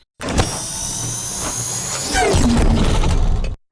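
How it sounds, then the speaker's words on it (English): A sci-fi military drone: a steady whining mechanical drone with a high electric hum, rising into a harsher, louder buzz near the end before cutting off abruptly. "we got some military drones"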